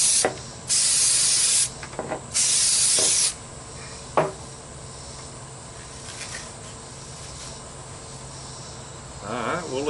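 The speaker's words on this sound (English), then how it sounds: "let me spray this on there and see if this will make it stick" Two long, loud hissing bursts from an aerosol can sprayed onto a homemade catfish jug float, each lasting about a second with a short pause between, followed by quiet handling and faint clicks.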